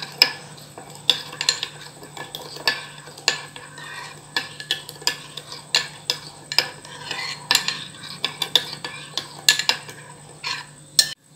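A spoon stirs a yeast mixture for dinner rolls in a bowl, quick clinking scrapes repeating in an uneven rhythm, close and fairly quiet, with a low steady hum beneath.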